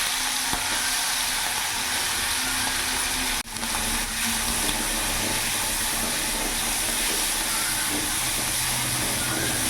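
Prawns seasoned with salt, turmeric and chilli powder fry in oil with a loud, continuous hissing sizzle that holds steady throughout, broken only by one brief dip.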